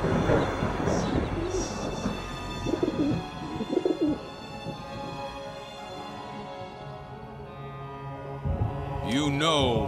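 An owl hoots in the video game Witches Legacy: low, cooing calls repeat over a rumbling, thunder-like background, fading in the middle before a brighter tonal sweep rises at the end.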